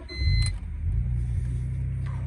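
A BMW 328i with a grinding noise from a wheel sets off on a short drive around the block: a steady, close low engine rumble from inside the car, with a brief high electronic chime near the start.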